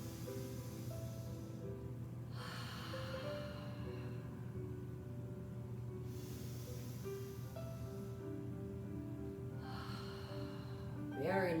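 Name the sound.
deep breaths in and out during stretching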